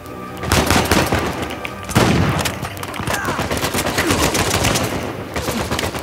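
Sustained automatic Kalashnikov rifle fire in the video game Uncharted 4, with dense rapid bursts of shots running loud and continuous throughout, slightly intensifying partway through.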